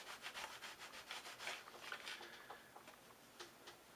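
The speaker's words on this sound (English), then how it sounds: "I'm just going to try the rubbing alcohol first and see if that helps even the finish out a little bit" Soft, close rubbing and wiping strokes on a dyed leather holster being cleaned with rubbing alcohol, a quiet repeated scuffing rhythm with faint ticks and no talk.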